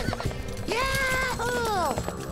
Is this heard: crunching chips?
no